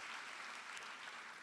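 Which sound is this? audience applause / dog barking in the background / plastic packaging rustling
audience applause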